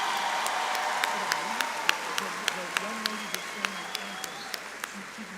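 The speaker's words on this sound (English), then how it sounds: "Can we give another round of applause for our terrific scholars and graduates today?" Applause from the audience at a high school graduation ceremony, a moderate steady patter of many hands that carries through to the end, with a few louder distinct claps standing out.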